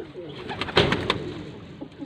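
A racing pigeon gives a short, soft coo close by, a brief throaty burst amid faint background sounds.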